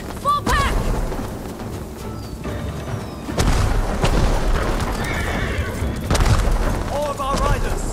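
Horses neigh and whinny several times amid galloping hooves and distant booms, with shouting voices mixed into a busy battle scene against Mongol riders in the video game Ghost of Tsushima.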